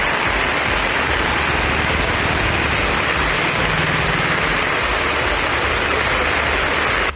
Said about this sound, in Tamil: இடங்களில் பரவலாக கனமழை பெய்தது